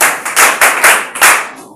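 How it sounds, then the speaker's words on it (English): Schoolchildren in a classroom clap in a few loud rhythmic bursts, about five close group claps that end abruptly. "Clap for him"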